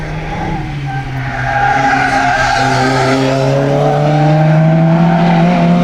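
An Opel Kadett GT/E or Opel Manta B engine roars steadily with a rising pitch as tires slide through a corner during timed laps, loud and close, building in intensity toward the end.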